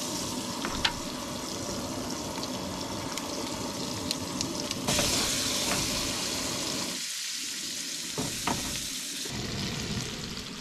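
Diced red onions frying in butter in a small pan inside a GMC Safari Astro van, a steady close sizzle that swells louder midway, with a few clinks of stirring.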